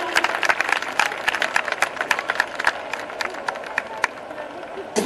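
Outdoor festival crowd at a jetski and flyboard water show claps along, sharp scattered hand claps over a busy crowd murmur, with brief shouts and voices mixed in throughout.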